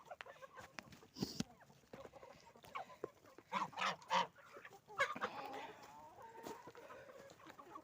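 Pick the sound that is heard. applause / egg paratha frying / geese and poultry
geese and poultry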